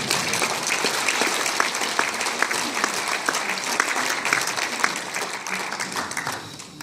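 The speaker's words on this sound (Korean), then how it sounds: "이게 박수 한번 쳐주세요." An audience claps at a book launch ceremony for a company chairman, producing a continuous, even wash of applause that holds steady for nearly seven seconds without speech.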